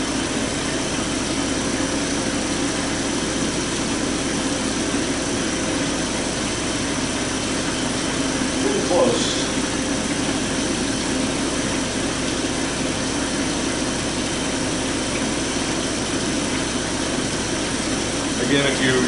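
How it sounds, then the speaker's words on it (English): The actuator motor of a Kold Draft ice machine runs with a steady mechanical hum and vibration, close and continuous, while someone talks over it. "This is all your actuator motor running here into your capacitor."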